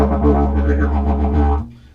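A low, buzzing drone instrument sounds steadily with rhythmic breath pulses shaping it, then cuts off near the end.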